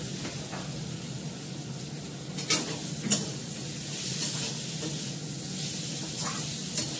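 Green chilli sizzling in hot oil in a frying pan on a gas stove, a steady hiss broken by a few sharp stirring scrapes and spits, close and moderately quiet.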